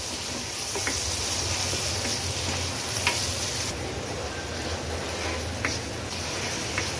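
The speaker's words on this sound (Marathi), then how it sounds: "आता या बटर मध्ये मी हे मटर ऍड करून घेते। अगदी अर्ध्या मिनिटासाठी थोडे हे परतून घ्यायचे।" Green peas sautéing in melted butter in a pan give a steady, close sizzle throughout, with occasional scrapes and clinks of stirring.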